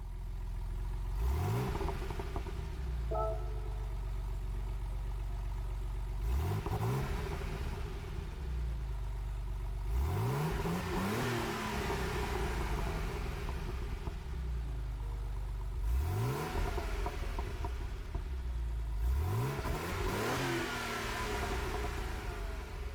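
A Porsche 911 Turbo S 964 engine revs in Gran Turismo 7, five separate rising throttle blips spaced a few seconds apart, each climbing sharply then falling back to idle, loud and alone without talk.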